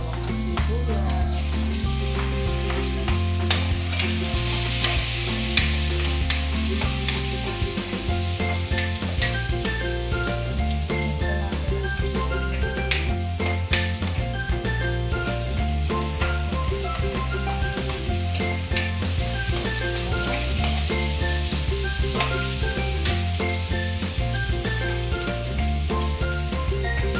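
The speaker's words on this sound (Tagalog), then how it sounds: "Tapos magigisa na tayo ng bawang at sibuyas." Pork fat frying, then garlic and onion sautéing, give a constant busy sizzle throughout, heard under steady background music.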